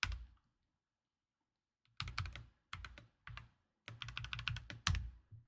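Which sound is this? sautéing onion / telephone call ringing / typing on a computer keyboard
typing on a computer keyboard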